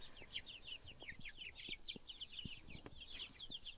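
Young meat chicks in a chicken tractor give a continuous run of soft, rapid peeping and clucking calls, close by and fairly quiet, with faint scattered knocks and rustles beneath.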